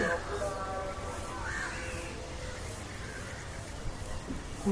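Crows caw from a distance around a small pond with tiny shrines behind a house, a few harsh calls over steady outdoor background noise, with a voice talking faintly.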